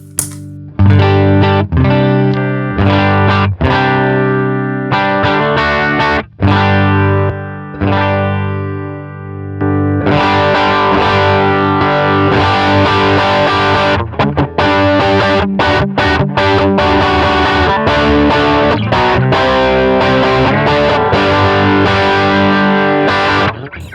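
Electric guitar played through a gain pedal on a worship pedalboard, loud and distorted with a heavy bass-rich tone, chords struck and let ring, then a dense stretch of driven strumming.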